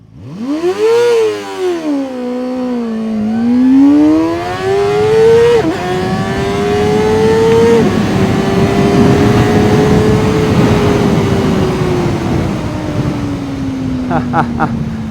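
A Kove 450 RR motorcycle is ridden with a jerky throttle, its engine note rising and falling unevenly in loud surges before settling into a long, steady drone with wind noise.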